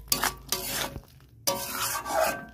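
A spatula scrapes and stirs matar paneer masala as it sautés in a pan, giving rough rasping strokes close up, in three bursts broken by brief pauses.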